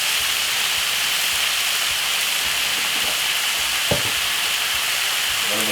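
Meat browning in a hot pan gives a loud, steady sizzle and crackle that runs unbroken throughout, with one brief sharper pop near the end.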